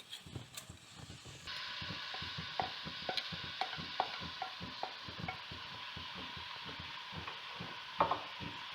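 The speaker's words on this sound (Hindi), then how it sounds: "अनियन डाल के फ्राई करेंगे।" Onions fry in a pan for aloo palak sabzi, a steady sizzle that swells after the first moments, punctuated by frequent rhythmic spatula scrapes and clicks, close and fairly soft.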